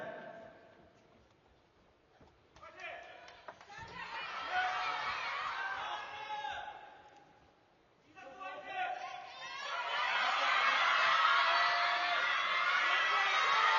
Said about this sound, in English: Crowd going absolutely nuts in here.